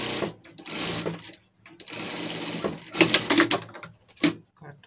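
A sewing machine runs short, choppy bursts of stitching while sewing a safety stitch on a costume, with sharp clicks and brief pauses between runs.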